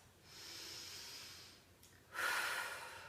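Two quiet breaths, a long soft inhale of steady airy hiss followed after a short pause by a louder, rougher exhale, close and alone with no talk.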